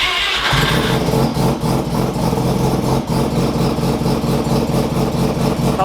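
A Mazda RX-7 FD rotary engine cranks and fires, then settles into a loud, choppy, pulsing idle that carries on steadily close by.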